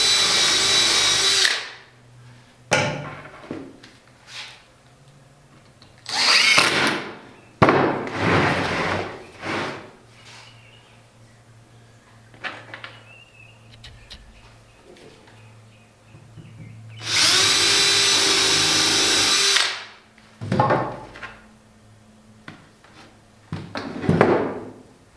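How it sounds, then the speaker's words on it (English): Screws driven into wood with a power drill while building a circular saw crosscutting box: several loud whirring bursts of a few seconds each, separated by quiet pauses with small knocks and handling sounds. "put some screws in. Put a screw in."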